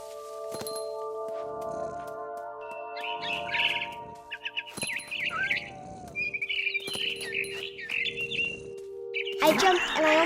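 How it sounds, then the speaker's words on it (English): Barn swallow in What Remains of Edith Finch chirps in short bright bursts and twittering runs, interspersed with soft thumps, a steady tonal hum underneath, and a loud rustling burst at the end. "Then I heard chirping outside my window. It was a barn swallow going back to her nest."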